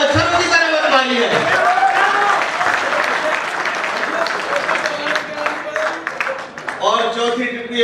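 An audience claps at a Hindi comedy poetry gathering, a broad wash of many hands running under a performer's voice, with speech in the foreground rising and falling over the steady applause.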